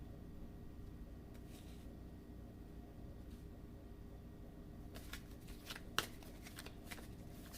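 Oracle cards being shuffled by hand, a soft steady riffling that runs under a low background hum, growing into sharper, brighter bursts of card slaps near the end.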